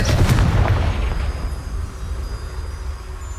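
The Confringo blasting spell in Hogwarts Legacy detonates in a loud booming explosion up front, then rumbles and fades away into quiet.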